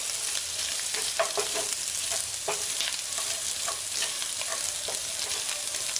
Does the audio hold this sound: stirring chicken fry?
yes